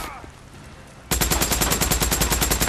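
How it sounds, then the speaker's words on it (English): Tommy gun in Days Gone fires a sustained, rapid automatic burst after a second of quieter game ambience, each shot loud, close and evenly spaced. "This fucking Tommy gun is so good"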